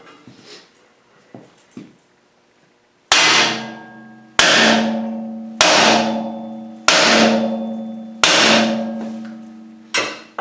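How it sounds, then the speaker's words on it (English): Hammer striking a track pin on a John Deere 350B crawler, with five loud ringing metallic blows at steady intervals, each leaving a long resonant decay, after a few fainter knocks and a short quiet gap. "Give it a couple whacks and crank it again with the wrench, and it should loosen up"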